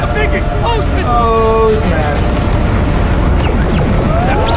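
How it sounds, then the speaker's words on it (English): A big explosion in the It Takes Two video game booms amid game music tones and effects, with excited voices of players reacting over the blast. "That's a big explosion!"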